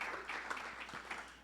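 A church congregation applauds during a Spanish-language sermon, a steady, fairly faint wash of clapping that runs unbroken through the moment without any talk.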